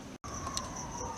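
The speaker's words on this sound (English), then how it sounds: "You can hear the sirens." Emergency vehicle sirens on Halloween night heard from a house, a steady sustained wail continuing after a brief dropout at the start, at moderate level without talk.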